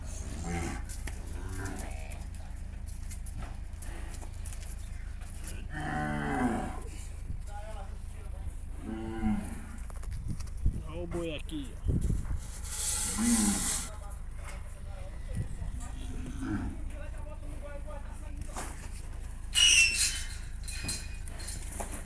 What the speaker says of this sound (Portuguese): Tem um boi brabo ali.